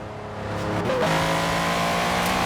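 A car engine in Forza Horizon 4 builds from a low idle into a loud, sustained rev that climbs and then holds a steady roar close by.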